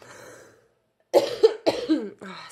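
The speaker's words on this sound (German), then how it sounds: "es tut mir leid, wenn ich so husten muss" A person coughs three or four times in quick succession, close and fairly loud, after a moment of soft breathy sound and a brief silence.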